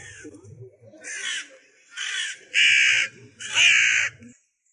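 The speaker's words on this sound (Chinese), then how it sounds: "我嫌乌鸦吵" Four loud, harsh caws from a crow ring out one after another, close by at a roadside, with faint background chatter between them.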